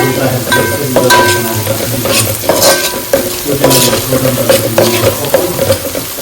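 Garlic paste sizzles in a pan at medium heat for chicken curry, with steady close frying noise, repeated scraping and stirring strokes, and a few metallic clinks of a spoon against the pan.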